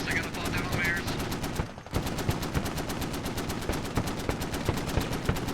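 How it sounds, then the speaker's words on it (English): Heavy .50 cal machine gun hammering away in a Squad-style military shooter battle, a steady rapid rhythm of loud bursts continuing throughout, with a brief gap near the middle and distant gunfire layered underneath. "50 cal opening up"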